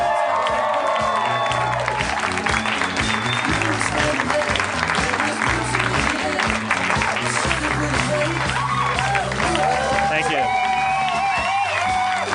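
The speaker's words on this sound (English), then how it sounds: "You're applauding yourselves." An audience at a live comedy podcast show on a Saturday night in Hollywood, California, applauding loudly and steadily throughout, with cheers mixed in and a voice speaking over the clapping.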